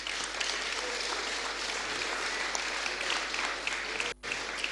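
A large audience applauds a prize-winning student at a school technology fair, dense, steady clapping filling the whole stretch with a brief dip near the end.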